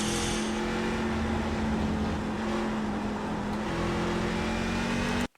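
A race truck at Watkins Glen runs at full throttle with a loud, steady engine drone and a sustained high whine that holds for about five seconds before cutting off abruptly.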